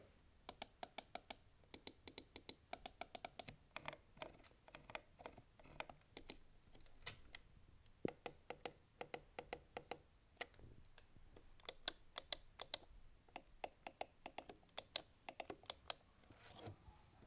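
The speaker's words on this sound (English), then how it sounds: "here's a quick sound test of the mouse itself and some of its buttons" Sharp, close clicks from the buttons of a Delux M618 wireless vertical mouse in quick irregular bursts, some rapid runs of clicks, with brief pauses between groups and no talking.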